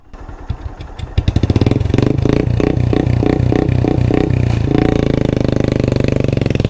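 A motorcycle is pushed, its engine clattering and catching after a few uneven thumps, then it revs into a loud, close, steady rapid putter.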